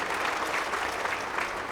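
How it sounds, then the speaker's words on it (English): Brief, fairly faint applause from an audience at a church's 60th anniversary celebration, a short burst of even clapping for Pastor Jeremy. "Perhaps a round of applause not only for Pastor Jeremy"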